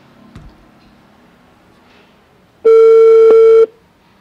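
A telephone call tone sounds while a number is dialed, one loud, steady electronic beep lasting about a second after a quiet stretch with a faint click.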